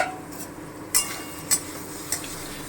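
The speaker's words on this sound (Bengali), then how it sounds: "আমি ঢাকাটা তুলে একটু দেখে নিচ্ছি" A lid lifted off a cooking pot of potatoes simmering over medium heat for chhanar dalna: three light, separate metallic clinks about half a second apart over a faint, steady background hiss.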